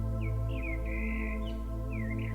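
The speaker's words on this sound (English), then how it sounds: "You can hear the birds singing," Several birds sing in short whistled phrases over a steady low hum, the calls clear and fairly close.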